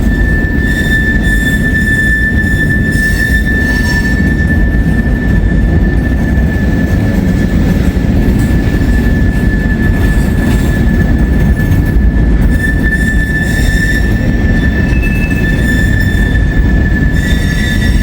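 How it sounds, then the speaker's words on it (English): An Amtrak passenger train rolls along elevated tracks, giving a steady loud rumble of wheels and cars with a sustained high-pitched wheel squeal running the whole time, no talk. "Amtrak should be coming around the bend any moment here."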